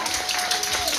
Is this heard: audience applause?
yes